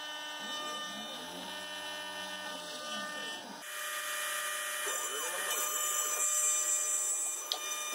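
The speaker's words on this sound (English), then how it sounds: "to mill the tenon on one of the pieces" A milling machine cuts a half-inch tenon on a curved wooden piece for a wooden geared clock stand, giving a steady whine with repeating sweeping cutter passes that turn louder and brighter partway through, then a couple of sharp clicks at the end.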